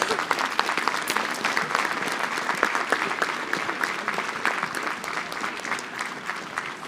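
Steady, dense applause from the crowd at a mayor's New Year's greetings ceremony, continuous and fairly even for several seconds with no talk over it.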